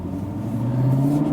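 A 2017 Lexus GS F V8 engine revving, a steady low droning rumble that climbs slightly in pitch and grows a little louder, heard close with no talking.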